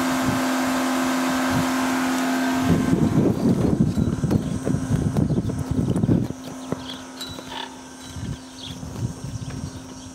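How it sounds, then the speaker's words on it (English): A pool pump and filter hum with a steady motor tone while irregular clattering mechanical knocks come and go in the foreground, then the hum settles on its own. "Here's your pump and your filter."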